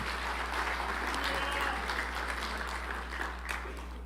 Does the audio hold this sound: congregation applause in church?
yes